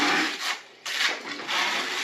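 A 6-inch drywall knife spreads grout across an Italian terracotta tile floor, making broad scraping rubs in uneven back-and-forth strokes. One stroke briefly pauses partway through, and no one speaks.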